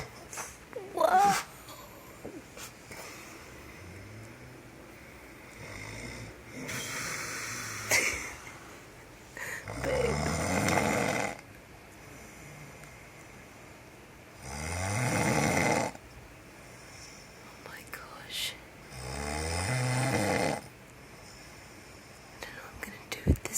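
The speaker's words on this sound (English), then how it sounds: "Snoring." A sleeping man snores in long, loud, rasping inhalations that recur every few seconds, with quiet breathing and faint whispered speech in the gaps between them.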